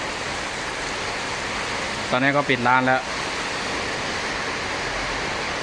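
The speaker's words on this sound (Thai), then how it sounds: "ข้างนอกก็ฝนตกครับผม" Rain falls outside at night as a steady, even hiss of noise throughout, with someone briefly speaking over it.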